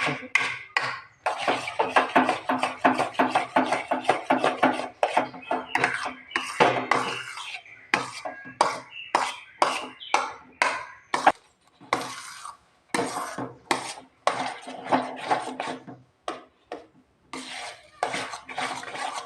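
Tender coconut halwa is stirred continuously in a metal pan, with repeated rhythmic scraping and clinking strokes that are close and fairly loud, with brief pauses between bursts.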